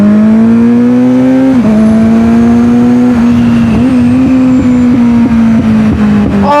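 A motorcycle engine revs loudly and close on a ride, holding a strong steady drone that dips and climbs with each throttle change and gear shift, without any talking.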